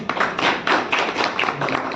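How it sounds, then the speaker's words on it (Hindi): Audience applause welcoming a guest at a Bharat Raksha Dal organisation meeting, a dense burst of many hands clapping that carries on steadily for a couple of seconds with no talk over it. "जोरदार तालियों से स्वागत करें।"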